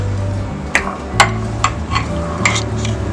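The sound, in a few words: stirring vegan rice pudding with hazelnut butter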